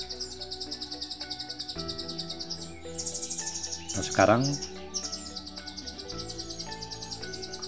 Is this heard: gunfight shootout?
no